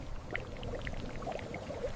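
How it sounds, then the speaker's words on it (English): Water poured into a vat of crushed agave mash for open-container mezcal fermentation, a steady splashing pour with light bubbling, close and moderately loud, no voices. "Water is added to activate natural fermentation."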